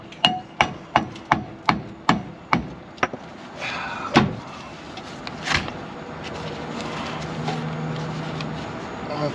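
Hammer blows on brake parts of a 1968 VW bus, about eight sharp, evenly spaced strikes at close range, then a few scattered heavier knocks and clunks.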